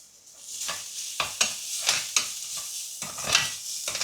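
Onions sautéing with a little garlic in a pan for a traditional Tamil home dish: steady sizzling frying with repeated scraping stir strokes, close and clear, no voices.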